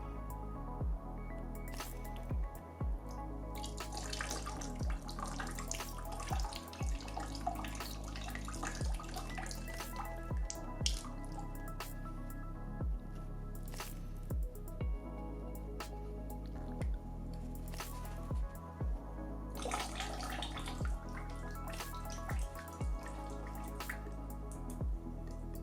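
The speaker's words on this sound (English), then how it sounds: "I'm gonna do this for the rest of the tubes and the blocks to get out as much liquid as I can from the system" Leftover coolant drains from the tubes and blocks of a water-cooled PC during a flush, giving steady close-up drips and small squishy splashes in a regular pattern over a constant low hum.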